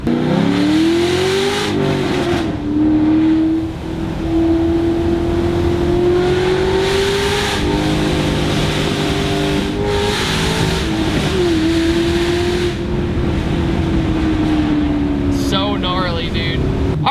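A 460-horsepower V8 engine in a Chevy SS roars and revs loudly through the gears, pitch rising and dropping with shifts, heard from inside over continuous road noise.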